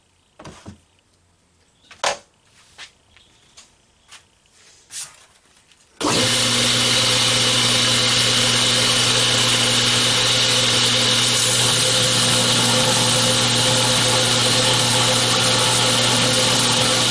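A power grinder works the flats of a knife blade, starting abruptly after a few quiet handling knocks and clicks, then a loud, steady, whining grind that holds without a break to the end.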